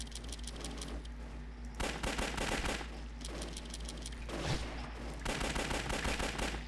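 Rapid bursts of gunfire from the video game Shambles, dense overlapping shots and automatic fire repeating in waves across the whole stretch, loud and steady with no talk over it.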